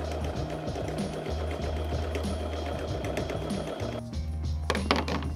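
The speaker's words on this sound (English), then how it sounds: "Now let's sew these two on" A sewing machine stitches fabric for a portable projector screen, its rapid mechanical hum and needle clatter running steadily up close before a short pause and a few handling clicks at the end.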